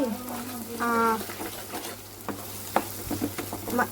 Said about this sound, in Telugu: సో మనం ఇప్పుడు అల్లం వెల్లుల్లి పేస్ట్ అయితే యాడ్ చేసుకుందామండి